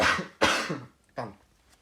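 Three separate coughs: two loud harsh bursts close together, then a softer one after a pause, near and with no talking.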